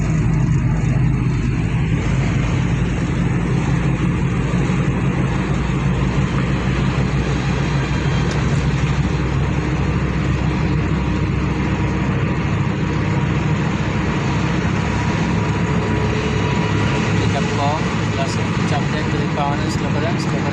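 Car pulling away and accelerating through the gears during a driving lesson at a driver training centre, a steady close engine drone heard from inside the cabin while an instructor talks throughout.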